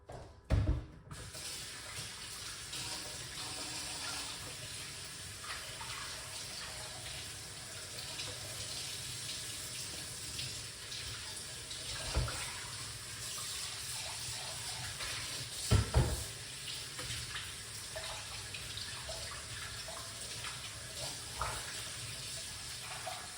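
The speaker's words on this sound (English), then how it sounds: "Let's wash off the potato." Tap water runs steadily into a sink while a potato is washed under it, a soft continuous splash with a few brief louder knocks and splashes, no voices.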